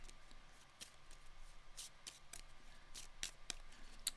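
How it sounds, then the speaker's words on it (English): A deck of Arkham Horror game cards being shuffled by hand, giving quiet, close riffles and flicks in a fast, uneven rhythm with sharp papery snaps throughout. "We have to shuffle this deck."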